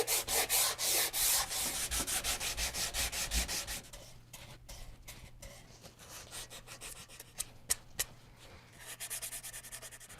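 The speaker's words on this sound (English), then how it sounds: "flat sanding block and go over the area just enough to remove the scratch marks from the previous grit" Rhythmic rasping strokes of a flat sanding block rubbing a wooden guitar neck, fast and steady at first, then slower, lighter scrapes with a few sharp taps, close up.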